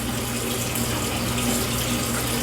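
Cold water runs steadily from a bathroom tap into the sink while someone washes their face, a constant close hiss and splash with no talking.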